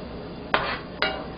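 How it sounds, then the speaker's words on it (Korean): Boiled dumplings stirred in a pot of water, two distinct metallic clinks of a utensil against the pot about half a second apart over a faint background hiss, close and clear with no speech. "만두 넣고 나면요, 바닥에 들러붙을 수도 있으니까 한번 저어주세요"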